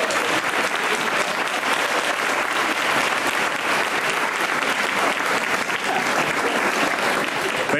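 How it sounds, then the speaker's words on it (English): Loud, sustained audience applause at an elementary school dedication ceremony greets the city schools superintendent, a dense, even wash of clapping from a large crowd that carries on without a break. "We are now going to give our biggest applause for our Columbus City Schools Superintendent, Dr. Dan Good."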